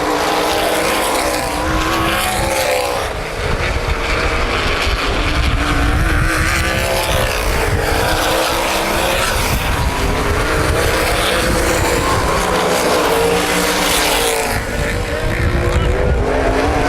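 Sprint cars race at Baer Field Speedway during a 2010 Hoosier Outlaw Sprint Series event, their engines a loud, continuous roar that swells and fades as the pack passes along the track.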